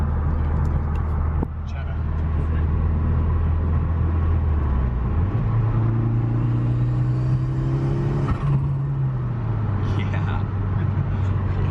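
A 1996 Ford Escort Cosworth RS engine drones loudly from inside the car, its pitch shifting as it revs and changes load with a rough, uneven note, while people chatter over it.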